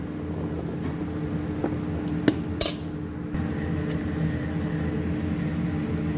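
Salad with drained chickpeas is tossed in a bowl, giving soft steady rustling and a few light clinks of a utensil against the dish.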